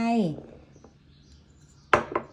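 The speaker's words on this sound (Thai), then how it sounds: "ก็จะใส่ถั่วลิสงต้มลงไป" Boiled peanuts tumble into a bowl as filling for a Thai rolled-crepe snack, a short clattering burst near the end after a brief voice at the start and a quiet pause.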